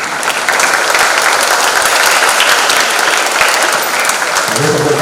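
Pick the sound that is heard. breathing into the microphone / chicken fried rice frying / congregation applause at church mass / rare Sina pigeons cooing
congregation applause at church mass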